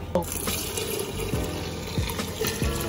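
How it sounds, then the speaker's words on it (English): Coconut milk poured into a pot for Jamaican rice and peas, a continuous liquid splashing and glugging pour with a few soft knocks. "Alright, so I'm gonna pour in some of the coconut milk now."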